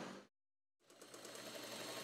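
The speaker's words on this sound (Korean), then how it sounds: "몇 달 전 재봉틀을 다시 잡았습니다" A sewing machine stitching mask fabric runs in a steady, fast mechanical whir, starting after a brief pause of silence and continuing loud and close.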